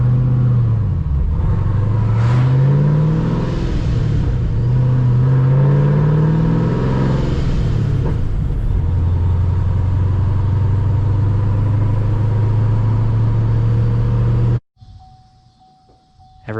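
A car engine with an OnKill setup idles after calibration adjustments, a steady low rumble with a slight rev early on, settling into an even idle before cutting off near the end.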